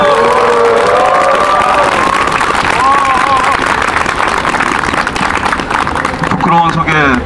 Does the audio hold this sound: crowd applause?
yes